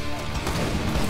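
A grenade blast in Borderlands 2 during chaotic gunfight, a dense crashing burst filling the whole moment with loud broadband noise, no clear speech over it.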